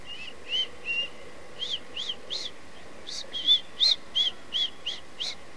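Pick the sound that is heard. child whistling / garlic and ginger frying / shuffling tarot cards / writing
child whistling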